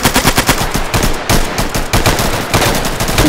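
Sustained German machine gun fire in the co-op shooter game Insurgency 2, loud rapid bursts of automatic shots with brief pauses between strings, dense and close throughout.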